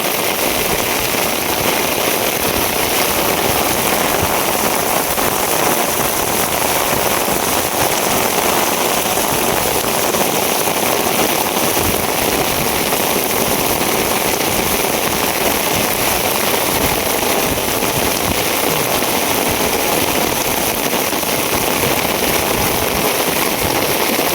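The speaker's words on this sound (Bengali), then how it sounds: "সর্বনাশ বৃষ্টি রে বৃষ্টি।" Heavy rain falls in a dense, unbroken roar, loud and close, with a steady hiss of drops hammering surfaces that never lets up.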